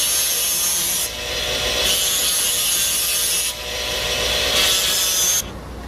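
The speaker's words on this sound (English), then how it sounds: "any remaining excess is dressed down with the disc" A rotary disc dresses down excess material on a dental polishing job, giving a steady high-pitched abrasive whir in several continuous passes with brief breaks between them, close and fairly loud with no talk.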